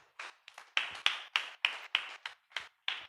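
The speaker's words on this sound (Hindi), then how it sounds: "आप लोग जोरदार ताली बजा के प्रभु को धन्यवाद दीजिए" During a church testimony service, the congregation claps a slow, steady beat of about a dozen distinct, sharp claps, close and even in rhythm, with no talk.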